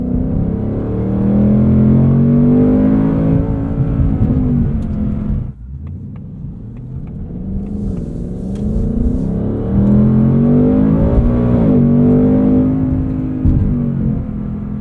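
A 2024 Ford Mustang Dark Horse with a 10-speed automatic revs hard toward its 7,500 rpm redline, its loud, close engine note climbing in pitch, dipping sharply at an upshift midway, then climbing again.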